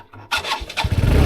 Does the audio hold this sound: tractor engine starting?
yes